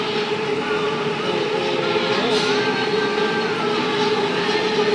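An elevated skytrain rumbles past overhead near MBK in Bangkok, steadily and loudly with a continuous rolling roar and faint metallic whine, no voices over it.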